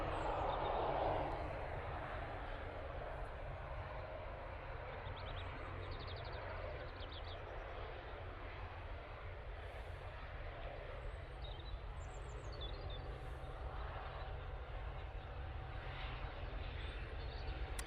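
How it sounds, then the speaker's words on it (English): An Airbus A321neo airliner climbs away from Manchester Airport toward London, a low steady engine rumble at a distance, faint and even throughout, with a few birds chirping over it. "And there goes that 321neo. Now off to London, mate."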